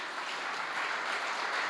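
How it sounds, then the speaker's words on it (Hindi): A church congregation bursts into dense, steady applause, many hands clapping together loudly and continuously for a short stretch with no voices over it. "चर्च के सुंदरीकरण के लिए आप ताली बजा दीजिए।"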